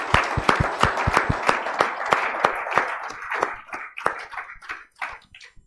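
A church congregation at a Sunday service claps in praise, loud sharp claps in a rough rhythm at first that thin out and grow sparser and quieter toward the end.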